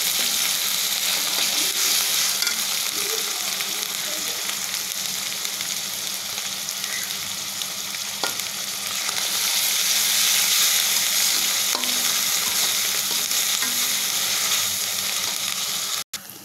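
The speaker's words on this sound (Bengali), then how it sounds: "এখন আমি এতে দিব পেঁয়াজের বাটা।" Onion paste frying on top of lightly fried onions in a pan for a Bengali mola fish bhuna: a loud, continuous close sizzle with faint stirring and a brief clatter at the end, no talking.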